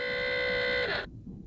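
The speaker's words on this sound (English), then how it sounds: "That's the alarm! And it sounds like it's for real!" An electronic alarm buzzer aboard a ship blares as a loud, steady, harmonic tone for about a second, then cuts off abruptly, leaving quiet background.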